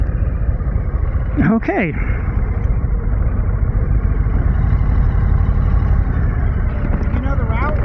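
A Harley-Davidson Low Rider S motorcycle engine drones steadily while riding, close and loud under rushing wind, as someone briefly speaks.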